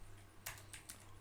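Three quick, faint keystrokes click on a computer keyboard while router network settings are typed in, with a steady low hum underneath and no talking.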